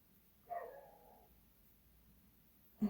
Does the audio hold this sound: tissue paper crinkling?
no